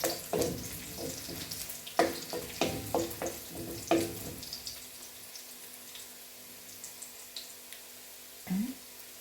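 Chopped ingredients, likely bitter gourd pieces for a ripe-plantain pulissery, fry in a pan with light clattering stirs in the first half, then settle into a soft steady sizzle; no one speaks.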